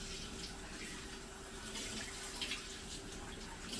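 Tap water runs continuously into a sink as meat for chicharrones is rinsed, a steady close-up gush with small splashy variations and no talking.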